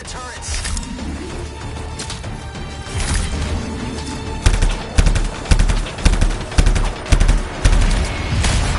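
Automated turrets open fire during a battle in the video game Anthem, a rapid series of loud, close bursts in an uneven rhythm building over ambient game noise, with brief voices in the mix.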